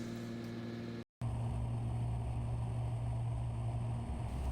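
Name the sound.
Cessna 414A aircraft landing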